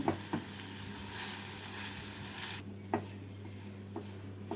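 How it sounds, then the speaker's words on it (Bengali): Prawn filling for chingri machher dhokha frying in oil over a medium-low gas flame, stirred into a stiff dough: a steady close sizzle with broadband hiss, a few sharp scrapes and clinks of the spatula, no voices. "পুরটাকে এই তেলের মধ্যে ভেজে শক্ত একটা ডো বানিয়ে নেব"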